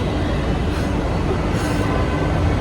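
A Bangalore metro train rumbles steadily and loudly from inside or close by, a continuous broadband roar with no voices.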